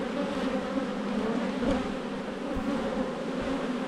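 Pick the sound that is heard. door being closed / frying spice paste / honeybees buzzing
honeybees buzzing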